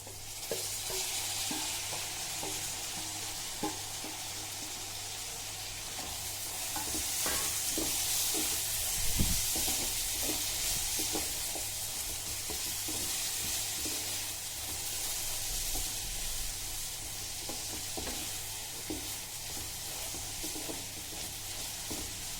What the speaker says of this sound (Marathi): कांदा आपला छान परतला गेला आहे आता यामध्ये आपण टाकूया